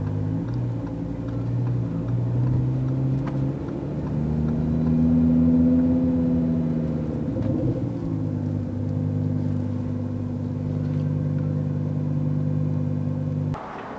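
A 1000 hp Lamborghini Huracan running on E85 ethanol cruises with a deep, steady engine hum from inside the car. The note rises and settles through a gear shift midway and cuts off sharply at the end.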